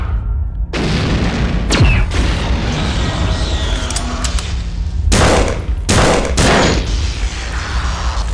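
Rocket turrets in System Shock 2 fire off a string of loud booming rocket blasts, each a sharp burst followed by rumbling echo, several in quick succession across a few seconds.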